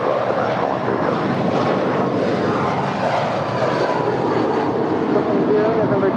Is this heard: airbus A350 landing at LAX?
yes